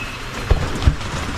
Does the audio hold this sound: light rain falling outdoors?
yes